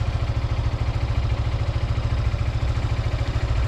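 A motorcycle engine idles with a steady, rapid low-pitched pulsing throb, loud and close, holding an even rhythm throughout.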